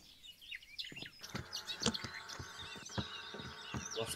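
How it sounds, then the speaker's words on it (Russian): Birds chirping in Minecraft, rapid overlapping tweets and short calls in quick succession, fairly close and busy, with no talk. "Птиц слышно, правда, бешено."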